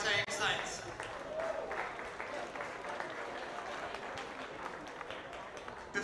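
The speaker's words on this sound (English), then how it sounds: "Can I have a round of applause for both teams?" Scattered applause for both teams from a modest crowd at a senior men's Australian rules football final in Townsville, fairly faint and distant, with a few voices mixed in.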